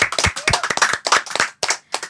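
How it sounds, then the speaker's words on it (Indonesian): Audience claps in a live talk show setting: a short, lively burst of hand claps, fairly close and loud, with uneven rhythm and a brief pause near the end. "Tepuk tangannya dulu dong."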